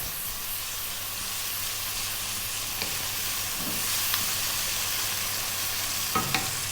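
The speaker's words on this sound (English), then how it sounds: "we're going to drop in that tablespoon of ginger garlic paste" Ginger garlic paste, an even blend of the two, sizzles in hot oil in a pan for an Indian-style potato dish, a steady, soft hissing fry with a few light clinks of a utensil.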